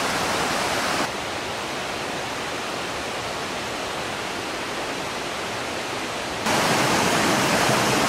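A river flows past a cottage in a mountain valley in Doshi, Yamanashi, giving a steady, dense rushing hiss that shifts slightly in level partway through, with no voices.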